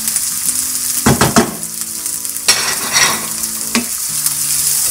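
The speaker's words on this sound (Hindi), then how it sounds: "अब इनको भी हम 2 से 3 मिनट फ्राई करेंगे।" Potato samosa chaat with spices frying in a pan, a loud continuous sizzle broken by bursts of scraping as the mixture is stirred, close and without speech, over faint background music.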